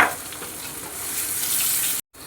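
Pieces of elephant foot yam go into a hot pan for a hilsa curry, bringing a loud, steady close-up sizzle that cuts off abruptly near the end.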